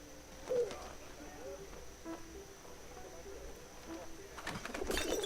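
A pigeon coos softly in the World War I game 11:11 Memories Retold, a few low murmuring calls against quiet ambient background, followed by a louder rustle near the end.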